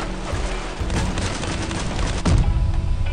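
Sustained gunfire from an enemy vehicle in the vehicle-combat game Crossout, a dense rapid rattle of shots with a heavier impact thump near the end, loud and continuous.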